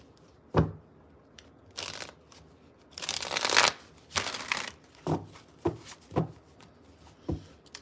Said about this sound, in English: Just shuffling the cards up a little bit before we get into it.